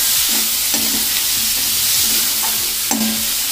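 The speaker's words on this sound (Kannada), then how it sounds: "ಕುದ್ದಿದ್ದು ಕಡ್ಲಿ ಹಾಕ್ತಾ ಇದ್ದೀನಿ. ಚೆನ್ನಾಗಿ ಫ್ರೈ ಮಾಡಬೇಕು." Boiled chickpeas sizzle in a hot pan for chana chaat masala, with steady frying hiss and repeated scraping strokes of a spoon stirring through them, close and continuous with no talk.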